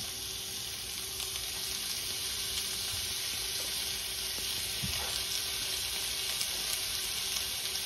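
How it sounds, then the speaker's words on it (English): Beef sears in a hot skillet for sukiyaki, a steady faint sizzle and frying hiss with occasional soft stirring sounds throughout. "We've got a hot skillet here, and yeah, we're going to go ahead and get our beef into it. Get it seared off."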